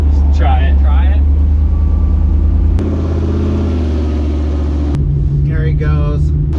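A Toyota FJ45 rock crawler idles with a deep, steady low rumble close by, rising briefly in the middle as the engine works, while people talk over it at the start and end.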